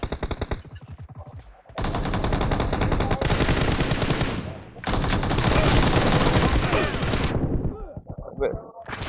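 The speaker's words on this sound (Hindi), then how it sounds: "अंधी गन चला रहा हूँ मैं तो" Rapid automatic machine-gun fire in a team deathmatch shooter video game, loud sustained bursts lasting several seconds each with a brief pause between, ending in scattered shots, with a voice talking faintly in places.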